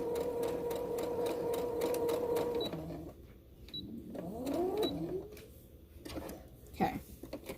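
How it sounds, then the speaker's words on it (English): A sewing machine stitches a fabric strip onto a cloth face mask with a close, steady whir that stops and restarts, and a voice briefly speaks between runs. "We're going to sew the strip to the mask."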